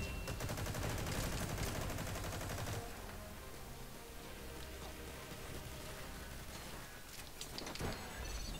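Dense, continuous automatic gunfire from Metal Gear Online 3 fills the scene, a steady rattling barrage that drops slightly in intensity after a few seconds, with sharp louder bursts cutting through near the end.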